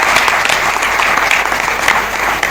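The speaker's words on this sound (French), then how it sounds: "Et je vous demande d'applaudir cette entreprise citoyenne." A large audience breaks into loud, sustained applause, a dense wash of clapping that holds steady throughout without letting up.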